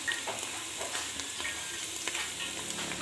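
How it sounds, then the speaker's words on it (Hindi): Two chopped medium tomatoes frying in a pan, a soft, continuous close-up sizzle with intermittent stirring scrapes and light clicks, and no voices. "दो दरमियानी चॉप कटी हुई टमाटर डाल दें"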